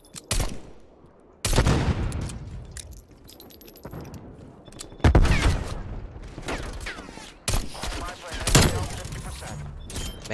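Minigun and other gunfire in Call of Duty Cold War, heard as bursts of rattling shots and impacts amid game effects at moderate loudness; no speech.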